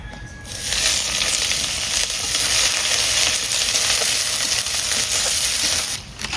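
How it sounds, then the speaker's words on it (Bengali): Onions sautéing in hot oil for Bengali chicken kosha, a loud, steady, close sizzle that runs without a break for several seconds, with faint stirring scrapes underneath. "পেঁয়াজ অর্ধেকটা কিন্তু কষানো হয়ে গেছে।"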